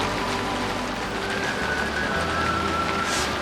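Rain falls steadily in a dense, even hiss of drops hitting surfaces outdoors under trees, loud and unbroken throughout with no voices.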